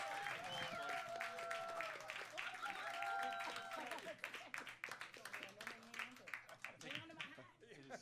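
Live concert audience at the Hawaiian Financial Music Hall cheering and applauding in a dense, sustained wash of claps and whoops, with voices talking over it.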